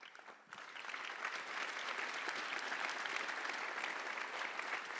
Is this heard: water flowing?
no